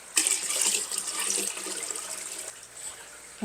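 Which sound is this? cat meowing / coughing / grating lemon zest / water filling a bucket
water filling a bucket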